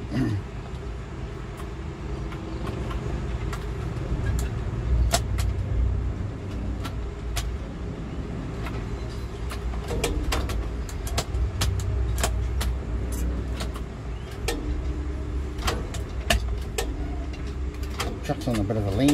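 Old truck engine idling on a sloped hillside, a steady low rumble running throughout with intermittent clicks and knocks on top, while people talk nearby.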